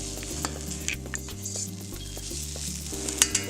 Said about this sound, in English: get a hot pan with a little bit of oil and just begin cooking the onions